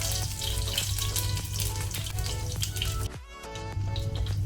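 Crushed garlic cloves frying in hot oil for an Andhra-style bhindi pulusu give a steady, close sizzle that runs almost unbroken, with a brief dip near the end and a tonal musical background underneath.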